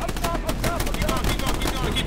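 Rapid, dense gunfire in the Hell Let Loose video game rattles continuously and close by, with overlapping bursts of automatic fire and a voice speaking over the battle.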